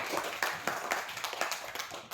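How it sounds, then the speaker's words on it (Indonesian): Classroom clapping during a Christian religious education lesson, a group of students giving a round of applause with sharp, fairly regular claps over about two seconds, moderately near. "Kita beri tepuk tangan."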